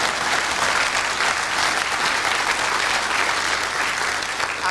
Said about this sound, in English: He deserves a round of applause for getting it out.